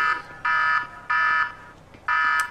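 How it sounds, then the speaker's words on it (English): A repeating alarm buzzer in the video game GTA V sounds three loud, steady electronic tones, each lasting about a third of a second, separated by short pauses, alone without talk. "Shut up, buzzer. We know you're going mad."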